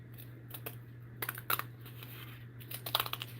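Scissors snipping through cardboard, a series of short, crisp crunchy cuts in uneven clusters, close and fairly quiet over a steady background hum.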